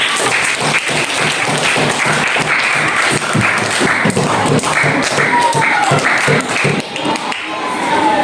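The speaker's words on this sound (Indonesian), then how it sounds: "Kasih tepuk tangan." Classroom applause for a student group that has just finished its presentation in a teacher-training session, with steady clapping from many hands filling the whole stretch at close range.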